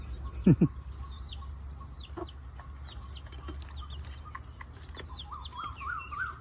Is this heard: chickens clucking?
yes